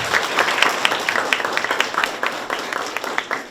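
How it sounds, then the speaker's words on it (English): Audience at an elementary school leadership event applauds a speaker, a dense steady patter of many hands clapping for several seconds with no talk over it. "Give her another round of applause."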